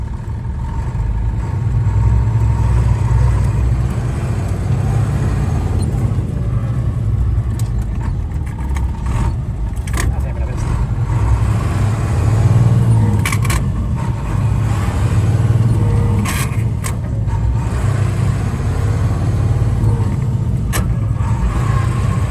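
A rare classic truck's engine idles steadily up close with a deep, heavy rumble like a semi, a constant low drone with occasional faint clicks and clatter over it.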